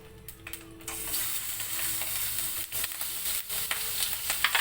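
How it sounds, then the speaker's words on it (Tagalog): Pork sizzles loudly in a hot pan, a continuous frying hiss with occasional utensil clatter and stirring, close up and without voices. "Piprito ko muna yung baboy na yan."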